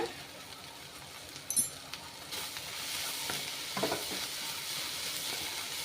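Beaten egg sizzles softly in a pan as it is stirred and mixed, with a couple of brief utensil clinks and scrapes over a low, steady frying hiss, fairly quiet and close.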